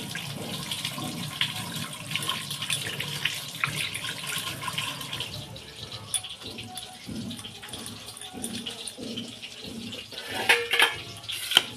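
Tap water runs over a vegetable being washed in a kitchen sink, a continuous splashing flow with handling noises, and brief faint talk in the background.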